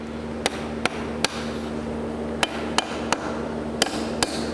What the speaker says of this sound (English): My soft blow hammer.